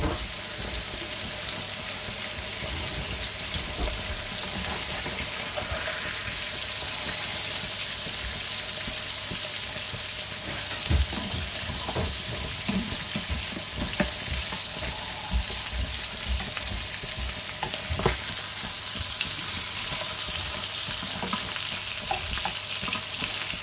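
A minced beef steak fries in a pan, giving a continuous close sizzle with scattered crackles and pops throughout and no talk.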